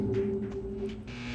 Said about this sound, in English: kind of techie sound of a flickering light sort of thing